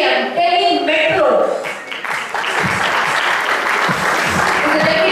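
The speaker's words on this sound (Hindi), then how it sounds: "May I please request all of you to show your hands with a thunderous applause." Thunderous applause from a large audience welcoming the Deputy General Manager of Delhi Metro at an event, loud dense clapping that dips briefly and then swells again, with a voice at the start.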